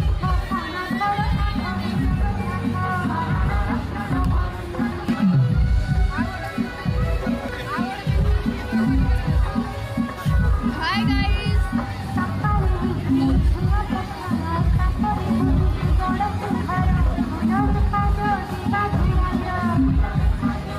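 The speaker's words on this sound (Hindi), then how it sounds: "देखिए इधर कितने ज़्यादा लोग हैं मेले में" Dense crowd hubbub at a busy fair, with many voices chattering and babbling all around, loud and close throughout, and someone speaking over the noise.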